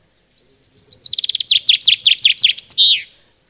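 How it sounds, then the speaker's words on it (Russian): A recorded chaffinch song: a loud, clear run of rapid descending chirps that speeds into a cascade and ends in a sharp flourish, heard alone with no talk. "Вот это песенка зяблика"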